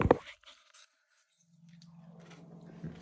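Bites into a crunchy keto, dairy-free coconut cream crème brûlée, a sharp crack of the caramelized top followed after a pause by soft, close, moist chewing.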